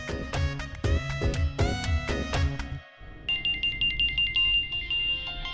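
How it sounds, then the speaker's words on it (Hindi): A telephone rings during an outgoing call, with a tonal electronic ringtone melody repeating in bursts, followed after a brief pause by a higher, thinner ringback pattern, clear and close with no talk. "फोन करता हूँ।"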